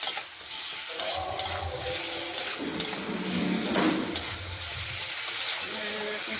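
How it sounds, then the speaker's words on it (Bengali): Boiled potatoes being stir-fried in a pan for aloo dum, with steady close sizzling and repeated spatula scrapes and clinks against the pan, and a voice briefly heard underneath. "এই আলুটা দিয়ে দিলাম, দিয়ে একটুখানি ভালো করে কষিয়ে নিতাম।"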